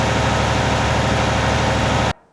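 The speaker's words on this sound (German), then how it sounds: "Und wir haben dann die Aufnahme mit dem Motor bei ungefähr 2000 Umdrehungen pro Minute, so wie das in der Realität geklungen hat." A farm tractor engine recorded running at about 2000 rpm for a farming simulator, a loud, steady, throbbing drone with a regular pulsing beat that cuts off abruptly just before the end.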